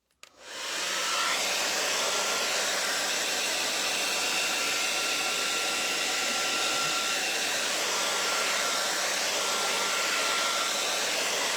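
A hair dryer switches on and runs steadily on a wet painted craft project, a close constant loud whooshing roar with no talk.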